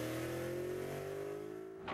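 A 556-horsepower Cadillac CTS-V luxury car with a manual transmission roars under acceleration, a loud sustained engine note with steadily climbing tones that cuts off abruptly at the end.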